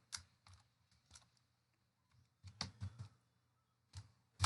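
Code is typed on a computer keyboard in short, quiet bursts of clacking keystrokes, with gaps between clusters and a denser run in the middle, close and alone with no talking.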